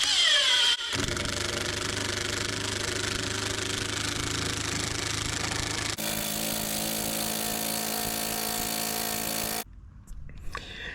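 An Osuka OCID821-D1 cordless impact driver runs at its lowest speed setting, around 1,200 rpm, giving a steady, close, buzzing motor whir that shifts pitch midway and then cuts off near the end.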